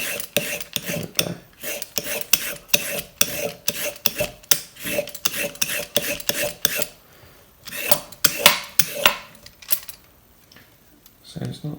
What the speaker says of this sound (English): it cleans up pretty well, just with a brush